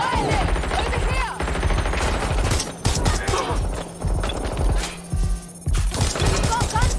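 Bursts of automatic gunfire in a Watch Dogs Legion shootout, loud rapid rattling volleys broken by short pauses, with shouting voices between them.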